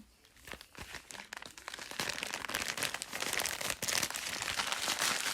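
A Christmas gift package is torn open, with paper crinkling and ripping in quick bursts that grow busier and louder, close up and continuous.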